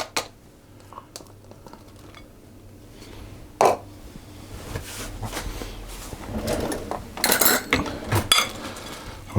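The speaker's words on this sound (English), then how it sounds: "I'll just give that a bit of a mix." Nuts, chopped peel, cherries and dried fruit being stirred together in a bowl for a Christmas cake, giving scattered clinks and scraping rustles that build into a busier, louder stretch of clattering toward the end.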